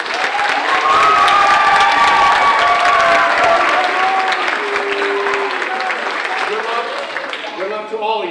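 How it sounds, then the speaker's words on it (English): A civics bee audience applauds finalists with sustained, loud clapping that holds steady throughout before tapering off near the end, some voices mixed into the crowd noise. "Give them a round of applause"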